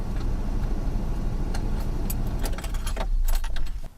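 Keys jangle as a truck or car fitted with an ignition killswitch is started. The engine turns over and catches into a steady running rumble, with a clatter of keys near the end.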